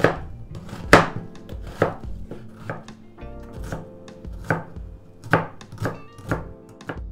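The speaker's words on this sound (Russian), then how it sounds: "Лук нарезаю небольшим кубиком." A knife dices a large onion into small cubes on a cutting board, a quick series of sharp, close thunks in an even rhythm with no talking.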